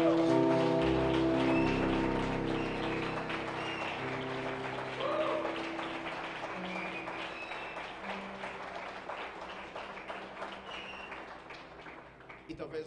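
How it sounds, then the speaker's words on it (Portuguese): A church conference congregation breaks into sustained applause with cheering and worship voices over it, strong at first and gradually thinning out as it fades. "Pode aplaudir o Senhor."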